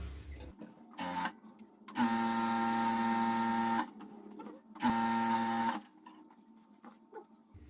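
A sewing machine whirs through a double row of stitching on a salwar, running in two strong bursts after a brief start, with small handling noises in the quieter gaps.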